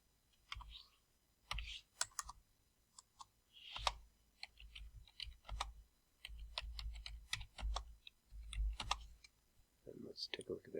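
Someone typing a headline on a computer keyboard, with scattered quiet key clicks in short bursts between stretches of speech, faint and close.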